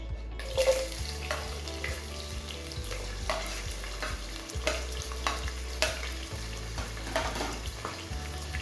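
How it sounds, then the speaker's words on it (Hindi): Medium-sized onions fry in hot oil in a pot, with a steady close sizzle and frequent stirring scrapes, heard alone without talk. "अब हम दरमियाने साइज की प्याज डाल दें।"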